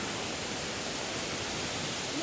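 A continuous dense rush of water pours from Kadamagundi waterfall near Didupe, Dharmasthala, loud and close, an even hiss-like roar that holds steady throughout.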